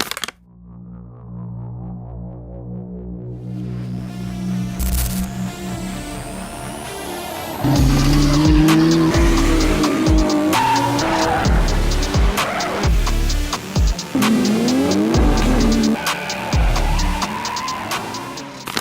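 A car drifting with loud, sustained tire squeal and a revving engine, steady and close, intensifying after a quiet start, with repeated bursts of skidding and engine roar throughout.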